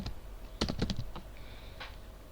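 Brief burst of computer keyboard typing as a short query is entered, a quick cluster of clicky keystrokes followed by a few scattered taps, close and fairly quiet with no talking.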